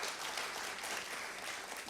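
Audience members at a storytelling event clap together in a quiet, steady round of applause that sounds somewhat distant and carries on evenly without pauses.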